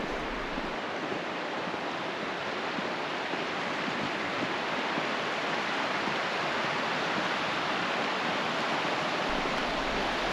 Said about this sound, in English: Just let the sound of that rushing water put you to sleep at night.